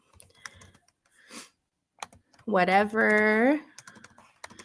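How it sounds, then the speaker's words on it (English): Scattered clicks of typing on a computer keyboard, soft and close, pausing while a person says a single drawn-out word. "So you just start typing in words for your students."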